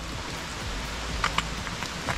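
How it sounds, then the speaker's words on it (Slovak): Heavy rain falling at night during a long-distance hike, a dense continuous patter with a few sharper drops close by, steady and fairly loud throughout. "Prší jak hajzel"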